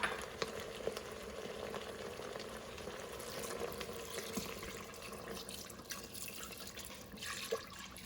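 Water pours steadily into a crockpot for chicken pulao, a continuous close splashing and trickling with a few small drips, no talking.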